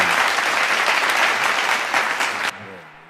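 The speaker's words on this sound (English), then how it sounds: "That's not even the same applause that we usually use." A canned applause sound effect plays on a live show, a full burst of dense clapping and crowd noise that cuts off abruptly after about two and a half seconds and leaves a faint tail.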